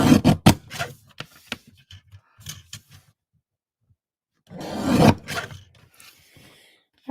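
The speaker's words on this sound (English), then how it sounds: "let me just trim this off a little bit" Card paper being trimmed for a handmade greeting card: a few short, crisp cutting strokes up close, then a longer burst of slicing, with quiet gaps in between.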